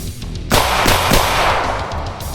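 Gunfire from a Springfield Prodigy pistol: a sharp, loud report at close range followed by a couple of further shots ringing out in quick succession, with outdoor reverberation trailing after each.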